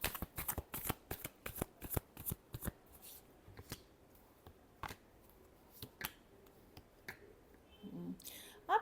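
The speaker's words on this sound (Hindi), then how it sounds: "Last shuffle." Tarot cards being shuffled by hand, a run of crisp riffling bursts and snaps that start dense and thin out into scattered flicks, close and fairly quiet, with a brief murmur of voice near the end.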